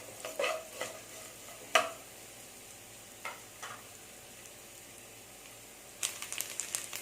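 Grated coconut roasting golden in a pan for green gram payasam: faint, scattered spatula scrapes and stirring clicks over a low background, with a small burst of scraping near the end.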